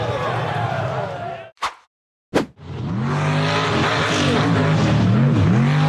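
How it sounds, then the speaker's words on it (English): Green off-road buggy accelerating hard up a tall dirt hill through a forest, engine revving loud and rising in pitch, broken by a near-silent gap with two sharp bursts, then climbing again to a strained, wavering high rev. "The green buggy accelerated hard up a tall dirt hill through the forest"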